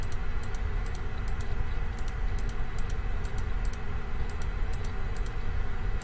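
Keys on a computer keyboard click in short quick clusters as a word is typed, sharp and close over a steady background hum.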